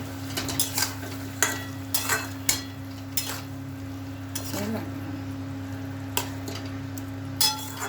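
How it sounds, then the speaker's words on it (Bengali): A spoon scrapes and clinks in a pan as chicken is stirred with ghee and garam masala, irregular metallic knocks over a steady low sizzle and background hum, fairly quiet. "1 চামচ ঘি দিয়ে দেবো, দিয়ে নাড়াচাড়া করবো"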